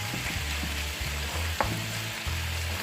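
Gaur beef stir-fried with red curry paste sizzles steadily in a pan, with a constant frying hiss, a few low scraping stirs and one sharp clink of the utensil partway through.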